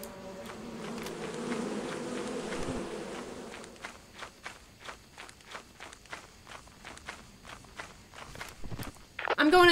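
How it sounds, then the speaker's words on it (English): Circuit bees in the video game Lethal Company give a low steady buzz in the first half, then fade as footsteps take over in a regular walking rhythm, ending in a sudden louder burst. "Hey, guys, I found circuit bees,"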